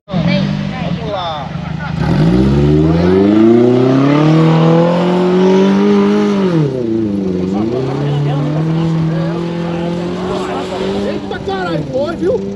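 GV3 off-road car engine revving hard as it climbs a sand dune, a loud sustained roar with pitch rising, dipping and rising again, accompanied by people talking and shouting excitedly.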